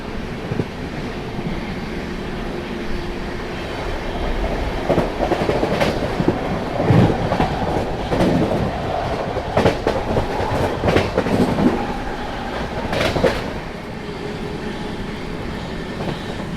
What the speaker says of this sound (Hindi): फिलहाल अपनी ट्रेन तुगलकाबाद स्टेशन को स्किप कर रही है।